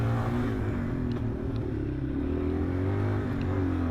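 A Yamaha XT225 dirt bike runs steadily on a muddy motocross track, its single-cylinder engine droning close and loud with slight rises and dips in pitch, wind rush over it, and no talk.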